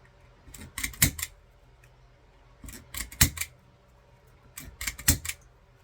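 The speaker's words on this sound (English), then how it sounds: "I'm just going to take my zip tie gun and tighten them all down" A zip tie gun tightens zip ties on a patriotic sunflower-style wreath, each cinch a quick run of sharp ratcheting clicks ending in a firm snap, three separate bursts spaced a couple of seconds apart, close and without talk.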